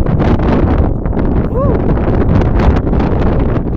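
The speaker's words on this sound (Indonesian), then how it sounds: "Kalau di sini angin kencang bro." Strong wind buffets the microphone on the summit of Puncak Bulu Dua in Watansoppeng, a 920-metre peak, as a loud, steady roar with gusty surges throughout and a brief whistling tone near the middle.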